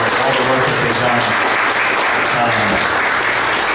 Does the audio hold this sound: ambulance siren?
no